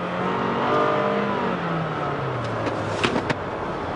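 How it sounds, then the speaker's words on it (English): Toyota Camry SE engine droning with a steady whine while driving, its pitch rising then gradually falling, close and continuous, with a few brief clicks near the end. "Listen to this engine whine."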